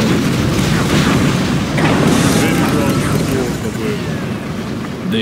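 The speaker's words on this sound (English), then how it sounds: "Nuclear missile launched." A nuclear missile launch and blast in the game C&C Generals Zero Hour, a loud rumbling roar with deep booming surges that slowly tapers, mixed with game voices and background battle noise.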